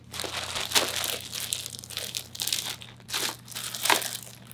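Plastic packaging around a pair of custom jeans crinkles up close in several bursts of rustling and crumpling, with short pauses between handlings.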